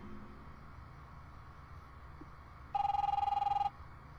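An old-style telephone rings in The Wolf Among Us video game, a single steady electronic ring burst lasting about a second, loud and clear over a low ambient game background hum.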